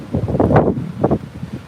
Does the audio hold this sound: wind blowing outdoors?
yes